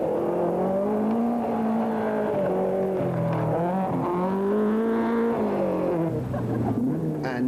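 A 1984 Scottish Rally car driven hard, engine note rising and falling steadily through gear changes as it speeds along the stage, loud and close with no voices.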